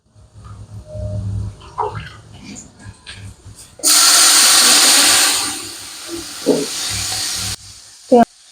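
Water hits a hot pan of frying garlic for beef trotter paya, bursting into a loud, sustained hiss of sizzling steam that fades slowly, with brief quiet talk before it starts.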